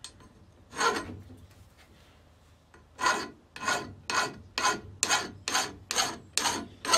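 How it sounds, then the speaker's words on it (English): A metal file rasps across the end of a splitting maul to knock off burrs: one scraping stroke, a pause, then about eight evenly spaced, rhythmic strokes, close and clear. "I'm just going to use a file. Just to take a couple of the burrs"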